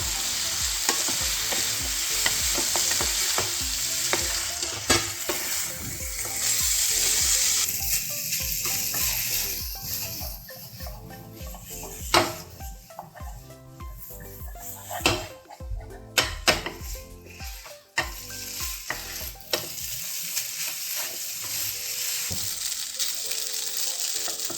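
Veg Hakka noodles with soy sauce and vinegar are tossed in a pan over a high flame, giving a continuous close sizzle with stirring scrapes and a few sharp clanks of utensils, and no talking.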